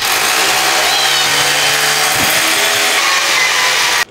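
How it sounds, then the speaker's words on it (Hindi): A drill machine boring holes in a house under construction, a loud continuous whirring grind that runs steadily nearly to the end and then cuts off abruptly. "वहाँ पे ड्रिल मशीन चल रही है ना"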